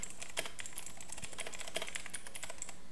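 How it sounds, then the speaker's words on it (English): Fingers type a caption on a computer keyboard, a close run of quick, uneven key clicks with short pauses and no voices. "I'm just going to type in"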